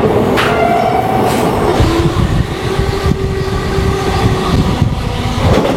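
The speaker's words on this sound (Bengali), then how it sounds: "পুরো ঝড়ের গতিতে ট্রেন ছুটছে।" Maa Tara Express passenger train from Kolkata racing at high speed near Dum Dum and Belgharia, heard from inside as a loud continuous rumble with rattling carriages and clacking wheels throughout.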